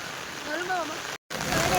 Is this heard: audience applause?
no